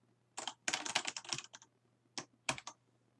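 Typing on a computer keyboard to enter a field name, with two quick bursts of close, crisp keystrokes separated by a short pause and a faint steady hum underneath.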